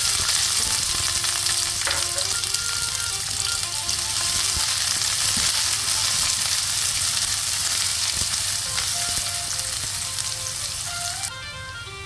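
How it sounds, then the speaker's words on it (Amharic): Onion added to hot oil with garlic frying in a pan, a loud, steady, close crackling sizzle that runs continuously, with faint music tones underneath and no talking. "ነጭ ሽንኩርቱ ከዘይቱ ጋር ትንሽ ሞቅ ሲል ቀጥታ የምናደርገው ሽንኩርቱን ነው።"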